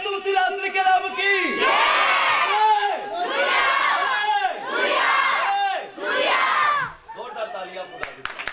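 A Christmas program crowd in Faisal Town, Lahore shouts slogans in a call-and-response pattern, four loud collective chant bursts rising and falling in rhythm, with a leader's voice between them.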